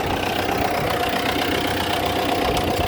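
An MTZ 892 tractor engine running steadily, a loud, close, continuous diesel rumble with a knocking clatter and even drone throughout, no speech.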